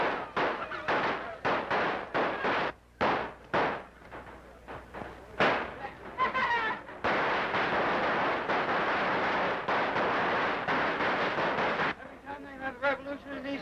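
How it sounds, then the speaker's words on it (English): Bursts of gunfire and cannon blasts during an attack on American property in a revolution, loud sharp cracks and booms coming in rapid irregular volleys, then dense sustained firing with shouting voices mixed in. "Gunfire! Cannons! It's revolution!"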